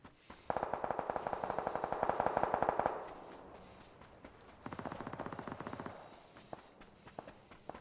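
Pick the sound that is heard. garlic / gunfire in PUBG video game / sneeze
gunfire in PUBG video game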